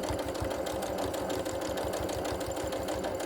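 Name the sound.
sewing machine stitching a hanging tab onto a quilt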